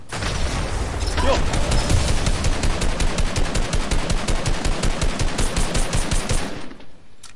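Rapid automatic gunfire rattles in a video game, a long sustained burst of evenly spaced loud shots that cuts off near the end.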